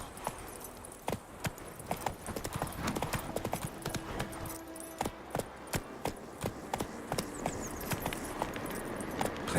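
Roach, the horse in The Witcher 3, clip-clops along with steady, evenly spaced hoof strikes, close and distinct, under a light ambient game soundscape.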